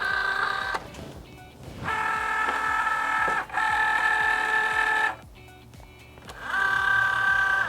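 A Cricut Joy cutting machine loads a vinyl mat and aligns it, giving steady mechanical whirring with tonal motor hum in several bursts separated by short pauses, close and fairly loud.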